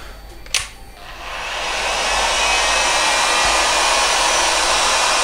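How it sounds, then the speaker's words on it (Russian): A Bort heat gun set to 600 degrees blows steadily, a broad rushing roar that starts after a brief click and swells to a constant loud hiss. "Ждем, пока Фен достигнет 600 градусов."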